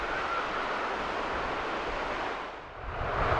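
Surf washing onto Sehwa beach on Jeju Island, a steady broadband rush of waves with some wind, fairly close and continuous, dipping briefly before swelling again; no voices.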